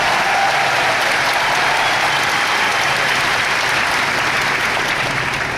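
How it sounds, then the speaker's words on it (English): Large audience applauding itself in an auditorium with a revolving stage, a loud, even roar of clapping that holds steady for the whole stretch. "So give yourselves a huge round of applause."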